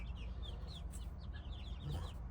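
Chickens, including brown Leghorns and a Master Grey rooster, cluck softly over a steady low background rumble, with faint chirping birds scattered throughout.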